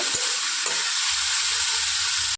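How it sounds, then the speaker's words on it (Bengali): Pointed gourd (potol) fries in a pan with a loud, steady, dense sizzle that fills the whole stretch, broken only by a couple of faint utensil knocks near the start. "5-7 মিনিট ধরে আমি পটলটা ভালোভাবে ভেজে নেব।"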